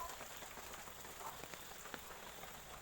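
Rain falls steadily at a resort in Bo Rai, Trat, Thailand: a faint, even hiss of drops on surfaces with a few soft individual patters, no voices over it.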